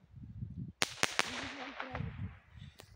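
Handmade New Year's Eve fireworks burst in a quick series of sharp cracks and bangs outdoors, followed by a whistling, fizzing trail and a final distant pop.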